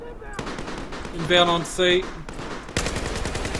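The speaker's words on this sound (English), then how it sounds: "Okay, here, gunfire." Battlefield 4 gunfire crackles in quick bursts and volleys amid game ambience, with a radio-style voice callout breaking in partway through.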